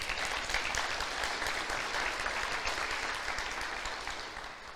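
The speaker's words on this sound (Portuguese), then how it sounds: "E aplauda o Senhor por isso." A church congregation applauds during a sermon, a sustained wash of clapping that stays even and then tapers slightly toward the end, with no speech on top.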